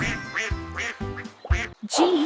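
Duck quacks in a cheerful children's alphabet song: a run of bright, nasal quacks in a bouncy rhythm, apparently voiced or sung in imitation of a duck rather than a real bird.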